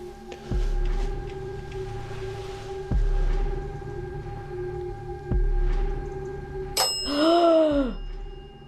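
A dead bell ghost-hunting device and a REM pod sound together in an abandoned building: a steady electronic tone runs throughout, with three sharp knocks and a bright bell-like ring near the end.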